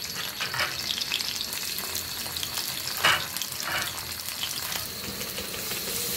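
Whole dried red chilies frying in a small amount of hot oil, a steady close sizzle and crackle with brief louder spits and stirring scrapes, no talking.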